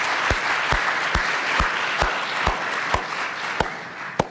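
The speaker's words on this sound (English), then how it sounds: "Let me just have a round of applause." Applause from a conference audience thanking speakers and panelists at a biodefense event, a steady wash of clapping punctuated by sharp, regularly spaced nearby claps roughly every half second, moderately loud throughout.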